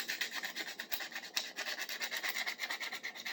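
A fresh strip of sandpaper rubbed back and forth over an old restored item, a quick raspy scratching in rapid repeated strokes, close and fairly quiet.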